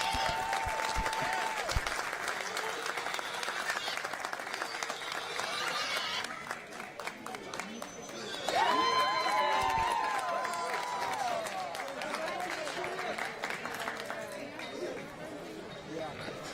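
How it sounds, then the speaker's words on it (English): Crowd at a junior livestock show market swine event gives a sustained round of applause, steady clapping with chatter and some cheering mixed in, while an announcer's amplified voice talks over it. "I think all of them need a congratulations with a round of applause."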